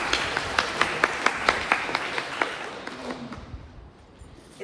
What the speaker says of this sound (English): Round of applause, young ladies.